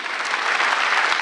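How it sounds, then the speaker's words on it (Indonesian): Steady crowd applause from a comedy show audience, loud and continuous for the whole brief moment, with no talking over it. "Tepuk tangan dong buat kalian."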